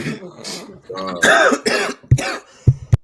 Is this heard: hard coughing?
yes